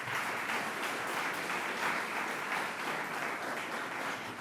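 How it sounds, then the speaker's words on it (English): A crowd at a governor's announcement event gives steady, dense applause, sustained and even throughout without a break. "Let's give him a big round of applause again."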